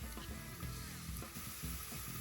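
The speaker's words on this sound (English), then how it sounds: "So you wait for the garlic to brown. Ooh, sizzling away." Garlic sizzles and crackles steadily in hot oil in a pan, with a few clinks and stirring sounds close by; no one speaks.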